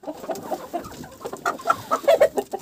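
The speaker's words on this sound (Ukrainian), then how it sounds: "Ой, ці кури." Chickens clucking in a backyard poultry yard in the evening, a run of short, close clucks growing louder and busier toward the end.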